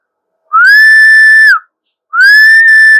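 Two loud, steady whistled tones blown straight into a handheld radio microphone running through a compressor with a booster on an IREX HF rig, the first lasting about a second, then a pause, then a second long whistle.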